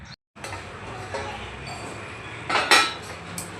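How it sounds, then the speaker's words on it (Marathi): A lid is set on a pan of cooking masala, giving a couple of metallic clinks and a scrape over a low background hiss. "यावरती झाकण ठेवते म्हणजे आपला मसाला छान असा परफेक्ट शिजेल."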